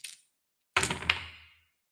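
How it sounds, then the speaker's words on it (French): A short clatter, then a louder rattling tumble of dice across a table during a Dice Throne board game, with a sharp knock midway before settling into quiet. "tout premier lancé."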